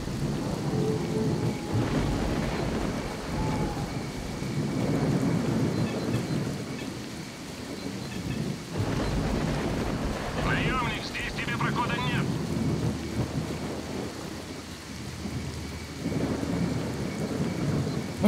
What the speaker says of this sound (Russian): Раскаты грома.